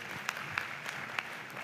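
A summit audience claps steadily, a fairly quiet patter of applause with a few louder individual claps.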